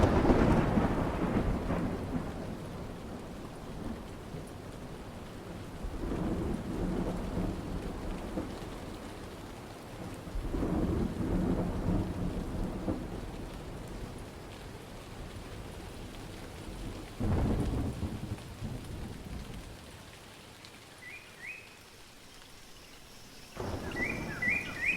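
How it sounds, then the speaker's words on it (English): A thunderstorm closes in with heavy rain pouring steadily, deep rolls of thunder swelling and fading several times, and a few faint bird chirps near the end. "The approaching storm may seem violent and destructive to us, but to nature, it's a new beginning in the cycle of life."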